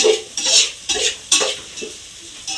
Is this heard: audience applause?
no